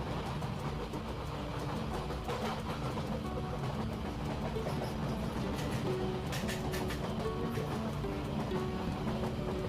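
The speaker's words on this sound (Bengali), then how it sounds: "এর পরবর্তীতে ট্রেন ঢুকছে রিমাউন্ড রোড স্টেশনে।" Kolkata Circular Rail train pulling into a station, with a steady loud rumble of wheels and engine and the rattle of carriages running throughout.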